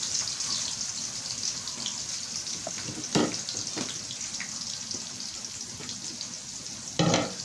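Onions fry in hot oil with a dense, continuous sizzle, broken by a few louder scraping stirs of a spatula against the pan, close by and without talk.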